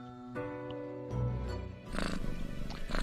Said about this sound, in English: The cat seems to be in a slumber, occasionally emanating a soft snore-like purr.